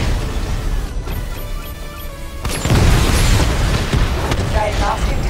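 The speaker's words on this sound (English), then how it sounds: "Missile barrage level 2" In Batman: Arkham Knight, a missile barrage from the Batmobile ends in a heavy, booming explosion about halfway through. A dense, roaring rumble of blasts and debris follows and keeps going under a speaking voice.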